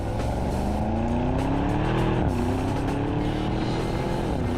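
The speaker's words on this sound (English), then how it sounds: "One more listen to that V8." The V8 engine of a 2025 Audi Q7 roars loudly and continuously, its pitch climbing steadily as revs build, briefly dipping, then rising again, with no voices over it.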